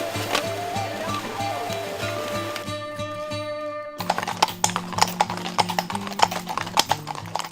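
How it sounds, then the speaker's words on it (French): Horse hooves clip-clop on asphalt during an equestrian trail ride through a neighbourhood, a steady run of close, sharp hoof strikes that grows louder and more distinct in the second half over tonal background music. "Les sabots dans le goudron résonnent dans tout le quartier."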